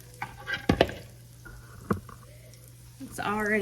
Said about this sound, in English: getting nice and sizzling on the sides.